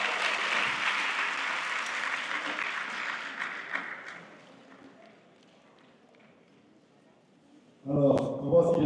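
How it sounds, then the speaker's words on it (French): Applause from the audience at a Sup'Management graduation ceremony, a full broadband patter that thins and fades after about four seconds, followed by a quiet stretch and a brief burst of clattering at the end. "Ça s'applaudit."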